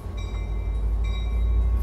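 Amtrak San Joaquin train 712 departing Oakland Jack London Square station, a loud close low rumble of rolling rail cars with steady tonal whining from the equipment and no talk.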